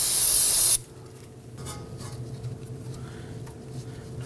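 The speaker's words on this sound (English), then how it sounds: "grab a can of spray solvent" After a loud burst of aerosol brake cleaner spray on a 2018-2025 Toyota Camry rear brake hose job, the hiss stops and quieter shuffling and faint handling noises follow.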